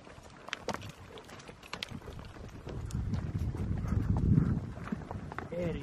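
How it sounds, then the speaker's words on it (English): Horse hooves clip-clopping at a steady walking pace on a ride through the mountains of Russia, mixed with wind noise and some rustling, louder and nearer in the second half. "riding through these mountains of Russia on this horse"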